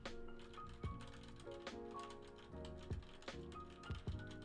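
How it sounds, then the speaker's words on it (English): Quiet keyboard typing, a steady patter of small key clicks with occasional louder taps, recorded alone in a quiet room. "I'm currently typing on my keyboard."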